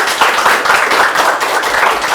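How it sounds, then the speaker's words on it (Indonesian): Students from a vocational school, SMKN 1 Tanjung, give a loud, close round of applause on an Indonesian talk show, the clapping dense and steady with faint rhythmic accents. "Tepuk tangan dulu boleh."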